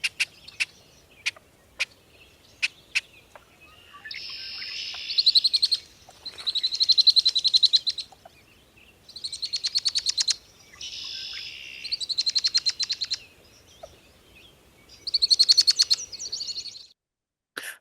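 Female red-winged blackbirds in a marshy wetland give several sharp chucks, then a run of buzzy rattle calls in repeated bursts, fairly close and clear against quiet background.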